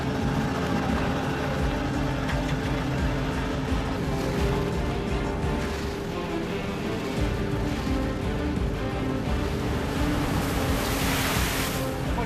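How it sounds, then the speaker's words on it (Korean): Rough winter sea crashing against a fishing boat hauling crab traps, loud and continuous, with wave surges and spray washing over a steady roar of water and engine rumble. "무섭게 몰아치는 파도"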